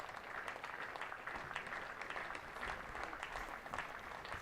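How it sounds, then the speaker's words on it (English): A ripple of applause from spectators at a county cricket match, steady scattered clapping at moderate distance with no voices over it. "Just hear the ripple of applause from the spectators here."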